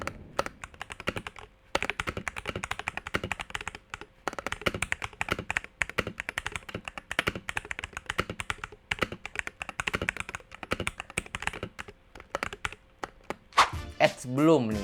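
Fast typing on a MelGeek MADE68 PRO keyboard fitted with TTC magnetic switches, dense solid clacks up close, with a brief voice near the end.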